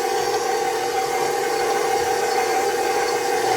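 A stand mixer turns slowly on its lowest stir setting, its dough hook kneading bread dough for a stromboli; a steady, close motor hum with a whining tone runs unbroken throughout, no voices.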